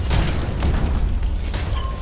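A rocket blast in the video game Fabular, a single dense, rumbling boom that fills the whole moment with sustained low roar and crackle, loud and close, without speech.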